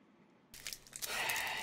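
A Crunchie chocolate bar is bitten into up close: a moment of quiet, then a sharp crisp snap followed by dry crackling crunches of the honeycomb inside.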